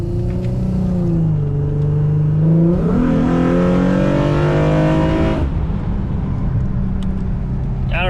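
A Nissan VQ engine breathing through an aftermarket exhaust revs up hard, its rising harmonic roar holding loud for a few seconds before dropping back to a rumbling idle, close to the microphone.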